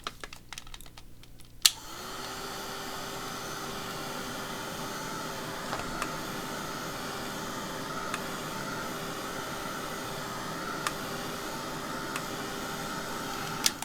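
A hair dryer blows on tea bag paper, starting with a click after some brief rustling and then running as a steady, close, continuous whoosh for the rest of the stretch with a few faint taps.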